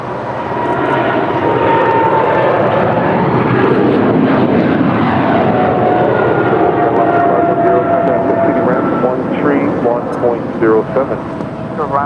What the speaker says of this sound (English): departing to Boston, flight 1388 with JetBlue Airways. It's a 7-year-old Airbus A321.